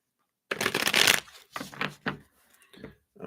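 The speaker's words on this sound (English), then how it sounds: "let me shuffle these up again here." Brisk riffling and flicking of a tarot card deck, a long burst followed by several shorter shuffles, close up with no talking.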